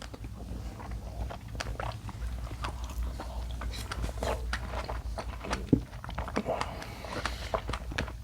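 Someone bites into and chews a large strawberry, with soft juicy crunches and mouth sounds close to the mic over a low background hum, one sharper bite standing out midway.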